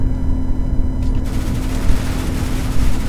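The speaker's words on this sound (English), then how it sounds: "Oh man, my P90's on fire, man." Rapid P90 submachine gun fire in Counter-Strike: Global Offensive rattles out in a dense, continuous burst, loud and close, with overlapping shots throughout.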